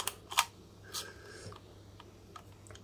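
A used, worn film camera with its lens removed, its shutter fired at several speeds, some of which make it stick open: a handful of sharp mechanical clicks and snaps spread irregularly over a few seconds, close and fairly quiet.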